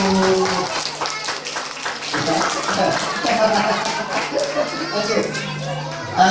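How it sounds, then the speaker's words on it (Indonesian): A crowd including children claps hands in a lively, uneven burst at a school gathering, mixed with excited children's voices and chatter throughout. "Tepuk tangan dulu, tepuk tangan dulu."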